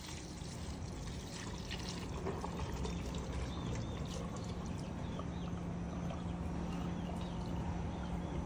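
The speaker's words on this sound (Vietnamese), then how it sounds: "Giờ mình cho cái nước mắm chua ngọt vô." Sweet and sour fish sauce poured over ocean tuna innards, a steady close-up splashing and trickling that runs unbroken for several seconds with no talk.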